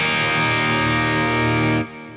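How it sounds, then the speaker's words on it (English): A Telecaster electric guitar rings out with a distorted, effects-processed tone, a sustained chord that holds loud and steady before cutting off abruptly near the end. "All right, everybody, Telecaster tones."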